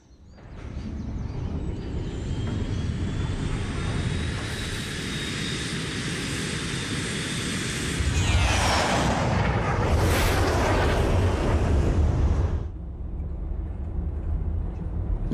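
An airplane drones steadily overhead, its engine roar swelling louder toward the end before easing off; no voices.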